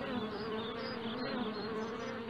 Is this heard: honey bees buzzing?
yes